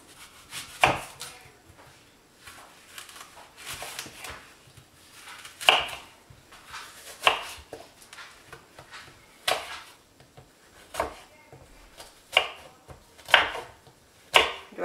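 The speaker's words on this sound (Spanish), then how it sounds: "vamos a empezar ya a picar nuestras manzanas" Knife chopping apples into small cubes on a cutting board, a steady run of sharp, fairly close thuds spaced irregularly about every second, with no talking.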